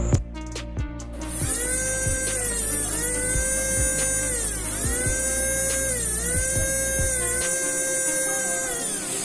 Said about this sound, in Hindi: एक बार मैं मोटर को चेक कराया था उसकी स्पीड कितनी तेज़ है अभी 5 वोल्ट से डायरेक्टली।